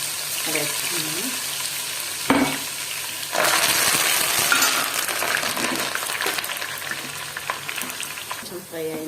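Coarsely crushed garlic hits hot oil for a ginger chutney and fries with a loud, continuous sizzle, with a sharp clink early on and brief speech at the start and end.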